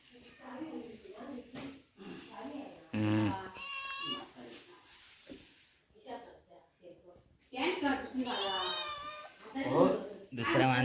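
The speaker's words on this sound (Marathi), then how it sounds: "आली आमची मांजर." A village cat in a Kokan home meows twice, the cries rising and falling, while someone talks nearby.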